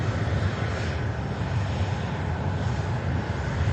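An ITA Airways jet operating for EasyJet at Manchester Airport gives a steady, fairly loud engine roar that holds evenly throughout with no voices.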